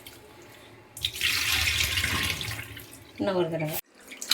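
Fish being rinsed and rubbed under running tap water in a kitchen sink, a steady close splashing rush lasting a few seconds, with someone speaking briefly near the end.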